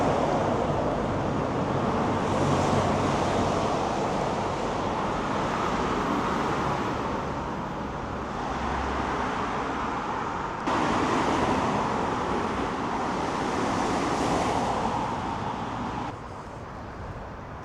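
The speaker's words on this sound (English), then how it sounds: "I'm sorry about the traffic noise." A steady wash of traffic noise from a nearby busy road, broad and rumbling, with passing vehicles swelling and fading over a continuous roar, near Upton House and Holes Bay.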